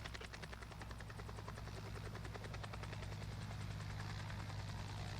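A Robinson R44 helicopter in flight gives a steady, fast rotor chop, rhythmic thumping blades over a constant engine drone, moderately distant and unbroken throughout.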